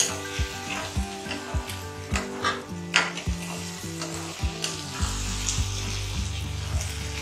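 Onions, curry leaves, garlic and green chilies sauté in a pan for sura puttu, a steady sizzle broken by rhythmic stirring scrapes of a utensil against the pan.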